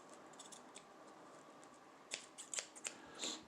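Scissors snip through a paper napkin while a small mask is made for a bearded dragon, giving several quiet, crisp close-up cuts in quick succession after a moment of faint rustling.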